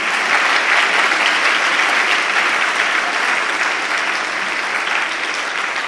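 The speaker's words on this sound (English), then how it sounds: "Let's give a big round of applause for all of them." A school audience applauds the newly invested student cabinet at an investiture ceremony, a dense, steady wash of many hands clapping that holds at full strength throughout with only a slight easing near the end.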